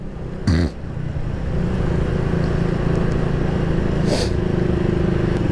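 A Yamaha R150 motorcycle engine runs steadily after sitting parked for over a month, giving a continuous close-up drone with a brief louder burst near the start.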